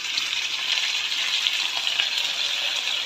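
String beans (sitaw) fry in a pan for adobong sitaw, a steady, close, hissing sizzle that holds evenly throughout with no talk over it.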